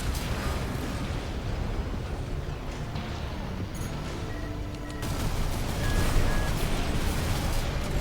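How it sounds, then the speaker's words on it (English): Gatling cannons blowing up during a mech battle in the video game Armored Core VI, a loud, dense rumble of explosions and crackling blasts that builds toward the end. "Gatling cannons destroyed."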